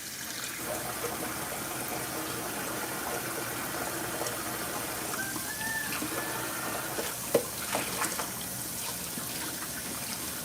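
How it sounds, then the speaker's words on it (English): Tap water runs steadily into a sink while a glass Atlas Mason jar is washed, a continuous hiss and trickle with a couple of small clinks of glass near the end. "I am washing this jar."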